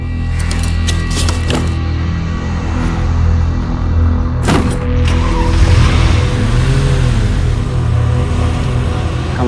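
A car engine runs close by and a vehicle pulls away, with a few sharp clatters and a brief rising rev partway through. The sound is loud and steady, with no talk.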